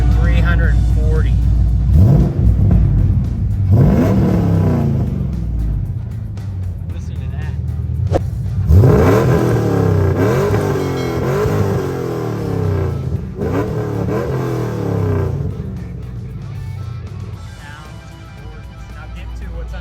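A 2002 35th Anniversary Camaro Z28/SS V8 starts and revs in several loud, close bursts that rise and fall, settling into a deep rumbling idle, with someone speaking briefly over it.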